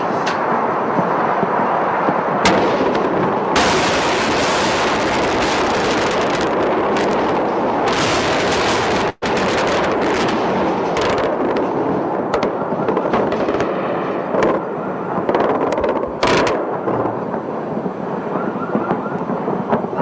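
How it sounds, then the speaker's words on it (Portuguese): Bombs exploding during the bombing of Baghdad, a dense, loud barrage of blasts, cracks and rumbling booms with a siren-like wail running underneath, continuous for twenty seconds. "Bagdá, como você está vendo, está sendo bombardeada"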